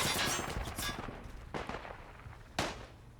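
Artillery fire and gunfire from the World War I mountain warfare game Isonzo boom and crack in bursts, with a rapid volley at first and then separate heavy blasts, somewhat distant.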